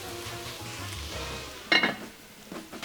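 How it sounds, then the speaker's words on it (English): Grated fresh ginger sautéing in a soup pot, with a low steady sizzle and one brief louder scrape of a spoon against the pot partway through. "Add in the 3 tablespoons of peeled grated fresh ginger to the pot and stir well"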